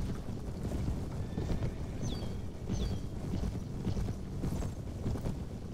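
Steady horse hooves clopping along in the video game Mount & Blade, over a constant noisy background, with a couple of faint high chirps; no talking.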